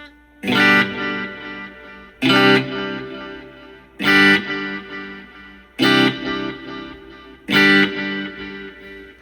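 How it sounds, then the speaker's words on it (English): A Wampler Catacombs delay and reverb pedal on its space echo setting processes five strummed guitar chords at roughly two-second intervals, each one swelling and trailing off in echoing repeats, loud and close with no talking. "and now we're going to the space echo."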